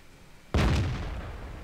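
A single tank cannon shot from a Centurion 7/1 in the World of Tanks video game: one sudden, loud blast followed by a long, rumbling decay, with no voices.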